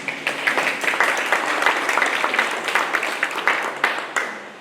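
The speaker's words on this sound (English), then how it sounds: "I think you all deserve a round of applause" A crowd at a housing stakeholders meeting claps steadily in dense, even applause, close and fairly loud, with no talking over it before it tapers off at the end.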